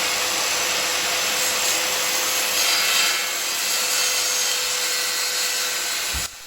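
A circular saw rips through plywood in a loud, continuous whining buzz with steady grinding texture, cutting off abruptly near the end.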